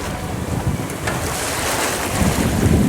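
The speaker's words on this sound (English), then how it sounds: "Nice beam reach. 12 to 15 knots of wind." Wind rushes over a sailboat on a beam reach in 12 to 15 knots, a loud continuous broadband roar and buffeting against the microphone, with water swishing along the hull underneath.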